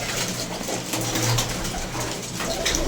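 A teddy pigeon among kept loft birds gives soft low coos beneath a dense, noisy background of other birds and room sound.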